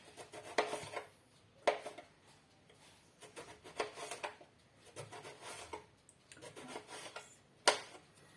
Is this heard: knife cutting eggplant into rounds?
yes